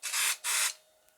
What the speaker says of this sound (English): Give the batting a quick spray of temporary adhesive spray.